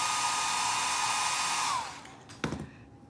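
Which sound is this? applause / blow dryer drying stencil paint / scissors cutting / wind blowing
blow dryer drying stencil paint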